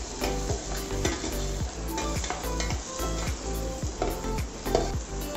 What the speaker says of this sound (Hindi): जिंजर और गार्लिक हमने कट करके रखा है ये भी हम इसमें डाल देंगे। इसको हल्का सा सौते कर लेंगे।